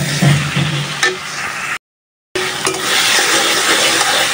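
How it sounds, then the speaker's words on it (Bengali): Pounded onion and garlic fry in a pan with a loud, close sizzle and a few stirring scrapes, interrupted by a short cut to silence before the frying resumes. "এখন এগুলো একটু ভাজবো অল্প কিছুক্ষণ সময়"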